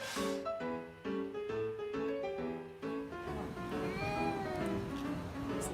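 A cat meows repeatedly, a series of rising and falling harmonic cries in quick succession followed by a longer, wavering caterwaul, fairly close and clear with no talk over it.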